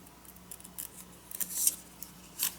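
Scissors trimming paper for an altered book journal: a few quick, crisp snips up close, separated by short pauses, with no speech.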